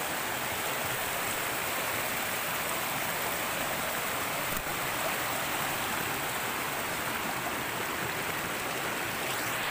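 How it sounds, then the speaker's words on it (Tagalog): Steady, broadband roar of a tall forest waterfall, water plunging from the top and crashing below, a continuous close rushing wash that stays loud and even throughout with no voices. "puntahan natin yung pinakamataas na falls para makita natin yung pagbagsak mismo ng tubig mula sa itaas"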